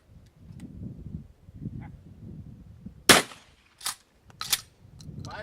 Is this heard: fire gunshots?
yes